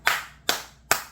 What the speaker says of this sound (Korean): 이 박수 소리 들리죠?